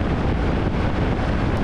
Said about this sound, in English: It started getting really windy by the time I got to the Morongo Indian Reservation